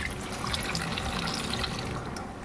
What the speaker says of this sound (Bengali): আমি একটু জল দিয়ে ধুয়ে নেব।